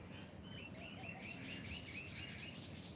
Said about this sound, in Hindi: पक्षियों की मधुर आवाज़ के साथ जुड़ जाएं।